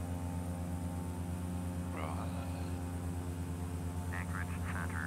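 A Cessna 208 drones steadily through its takeoff roll, with a constant low propeller and engine hum throughout. Brief radio-like voice chatter comes in over the engine noise.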